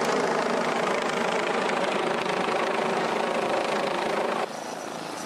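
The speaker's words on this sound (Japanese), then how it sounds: "続いて2機のドクターヘリが着陸し" Loud, steady rotor thrum and engine roar of a nearby air ambulance helicopter landing at a heliport during a rescue drill in Aichi, Japan, continuous throughout, dropping slightly in level near the end.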